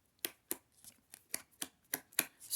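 Thick, tattoo-style tarot cards riffle and snap in close, quiet bursts, about eight crisp shuffles in a steady rhythm with no talking.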